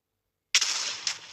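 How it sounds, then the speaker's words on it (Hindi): Normal TNT blowing up in Minecraft: one sharp broadband blast after half a second of silence, a roaring tail and a smaller second burst, loud and close with no talk. "नॉर्मल TNT, जो कुछ इस तरीके से धमाका करता है।"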